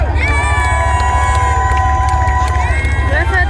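A museum crowd hoots, hollers, shouts and claps continuously and loudly to cheer a winning M60 tank crew in a battle royale, over a constant low rumble.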